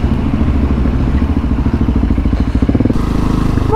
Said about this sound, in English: Motorcycle! Relatively new motorcycle.